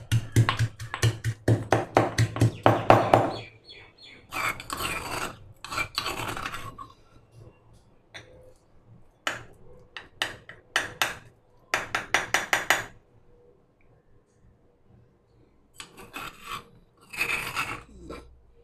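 Rose petals, coconut oil and almond oil for a homemade lip balm are ground in a small kitchen mixer, running in several loud bursts with pauses between, no talking.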